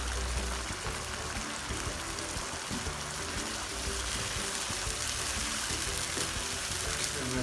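Chicken changezi masala gravy frying in a pan after about eight minutes of cooking, giving a steady close sizzle with soft bubbling that runs throughout.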